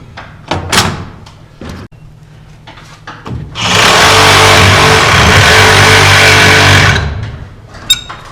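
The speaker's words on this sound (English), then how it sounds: "I have to go and cut, have to sawzall this 1x4 out of the way" A reciprocating saw cuts through a 1x4 wood board: a loud, harsh buzzing rasp runs steadily for about three seconds after some clattering handling noise, then stops abruptly.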